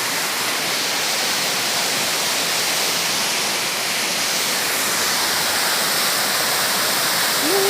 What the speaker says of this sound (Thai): พาน้องไข่มุกมาดูน้ำตกค่ะ